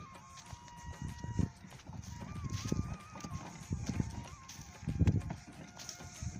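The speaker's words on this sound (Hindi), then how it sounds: "ये हमने गधा लिया हुआ है, ये बस यही काम करता है सुबह से लेके शाम तक" A donkey pulls a cart through sandy village farmland, its hooves clip-clopping in an uneven rhythm at moderate distance, with a rolling rumble and faint background noise throughout.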